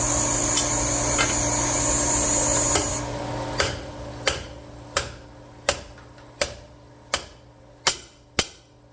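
Sharp metallic hammer blows ring out one after another at a steady pace, about eight strikes, each decaying quickly, as valve seats are hammered into a Chrysler 3.7 cylinder head, after a stretch of grinding background noise.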